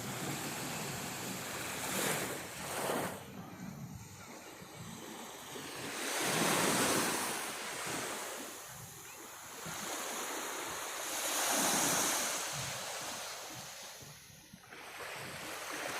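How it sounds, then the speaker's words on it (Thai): Sea waves wash onto Pattaya beach in the evening. Breakers swell and recede in slow, rhythmic surges a few seconds apart, with close, hissing surf and some wind rumble on the microphone. "เสียงคลื่นน้ำทะเลก็ยิ่งชัดขึ้น"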